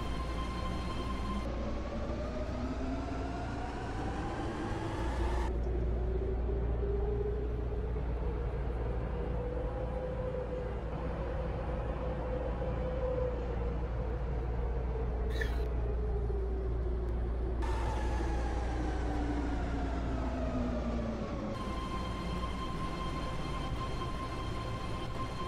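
A ten-car BART train in a Roblox game rumbles along steadily with a rising and falling whine from its motors, a continuous mechanical drone throughout.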